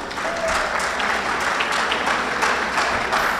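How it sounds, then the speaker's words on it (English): Audience at a hall of fame event applauds in a dense, continuous burst of clapping that holds steady for a few seconds. "Give her a big round of applause."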